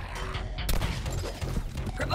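Rapid bursts of gunfire erupt in the Suicide Squad: Kill The Justice League video game, loud and overlapping with sharp shots and background game effects, while a character's voice calls out over the shooting.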